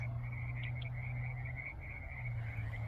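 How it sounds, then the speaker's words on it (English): Frogs croak in a steady, repeating chorus in the background in the Shasta Valley near Grenada in March, their high calls pulsing over a low constant hum. "I can hear the frogs croaking in the background."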